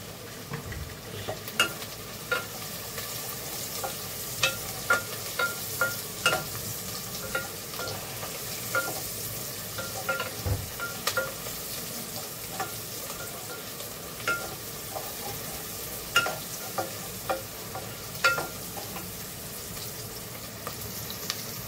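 Asafoetida crackles in hot oil alongside cooking onions for a mutton and liver dish, a soft continuous sizzle broken by repeated scraping clicks of a spoon stirring the pan.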